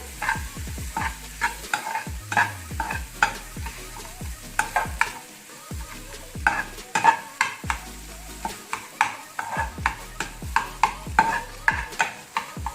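Boiled, mashed potatoes are stirred and roasted in a pan over a low flame, giving repeated close scraping and stirring strokes in an irregular rhythm over a soft, steady sizzle.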